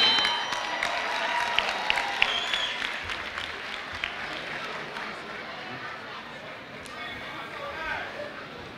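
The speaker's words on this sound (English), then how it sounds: "Can we please give him a round of applause?" At a Bronx Community College commencement ceremony, the audience gives a steady round of applause with some cheering, a broad wash of clapping from a large crowd that keeps an even level throughout.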